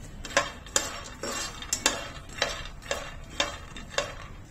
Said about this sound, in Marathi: शेंगदाणे सुद्धा मंद आचेवर खरपूस असे भाजून घ्यायचे।